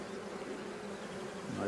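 Honeybees hum at an open, queenless hive during an inspection, a dense steady close buzz with a low drone joining at the end.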